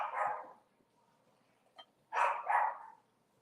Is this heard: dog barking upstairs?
yes